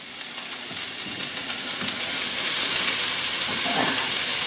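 Red onions sizzle in a skillet as a bright, hissing wash that swells louder after a couple of seconds and holds steady, close up, with no talk.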